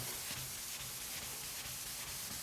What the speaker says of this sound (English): You say I'm sanding, right?